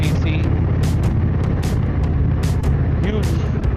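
An Indian motorcycle with a huge 111 cubic inch (1812 cc) air-cooled V-twin, six-speed belt drive and Sharkroad exhausts rumbles at a close, steady idle, a deep throbbing burble with sharp bursts of wind or handling noise over it.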